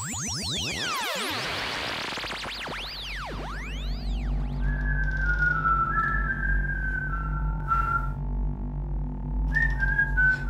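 Sweeping electronic tones give way to a person whistling a slow, wavering tune over a steady low hum, with no talking.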